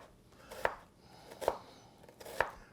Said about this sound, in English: I cut it in half and I julienne them.